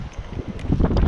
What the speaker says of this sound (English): Bit windy, man. So, sorry for the wind if you can hear that wind.